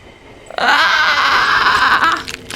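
A sudden, sustained high-pitched scream erupts after a brief quiet and holds for about a second and a half before cutting off.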